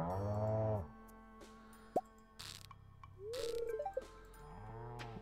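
Cows in the farming game Starworld Farms give long, low moos at the start and end of a milking, with a short plop, a rising blip and small game tones in between.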